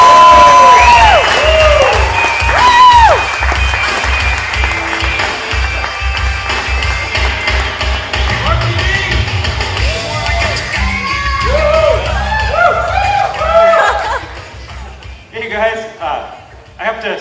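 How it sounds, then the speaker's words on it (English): A comedy club audience cheers, whoops and yells for a stand-up comedian as he is introduced, a loud sustained crowd roar with shouts rising over it, thinning near the end as a voice starts to speak. "Big round of applause."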